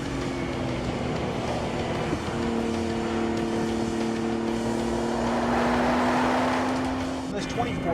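2014 and 2010 Nissan GT-R driving in aggressive R mode, a steady engine drone heard from inside the cabin with a slight pitch shift, continuous and moderately loud under someone talking.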